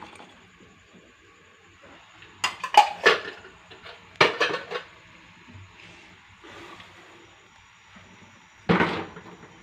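Pots, plates and cutlery clatter and clank while washing up in a home kitchen, in several separate bursts of close metallic knocks with quiet gaps between, no talk.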